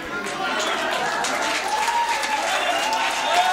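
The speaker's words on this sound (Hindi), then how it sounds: "इधर से तालियां आ रही हैं" A comedy show audience breaks into applause, a dense continuous wash of clapping from a crowd, with a voice speaking over it throughout.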